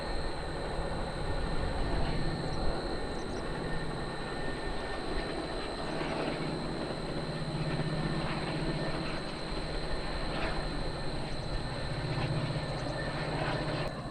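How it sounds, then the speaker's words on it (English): A train rumbles steadily in the distance, a continuous low roar with a faint high whine, no voices present. "There's a train cutting through."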